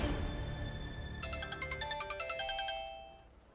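A phone rings while calling mum, a bright electronic ringtone pattern of rapid repeated chimes, close and clear over a faint background hum, with no one talking.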